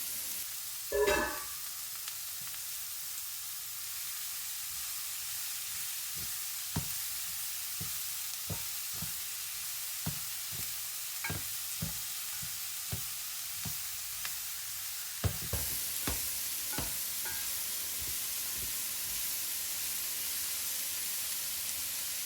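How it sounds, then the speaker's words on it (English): Chicken pan being deglazed with vegetables in a one-pot chicken and rice dish, giving a steady close sizzle under a series of sharp scraping and stirring clicks, with a brief louder burst at the start and another flare of activity near the end. "We're going to deglaze that pan."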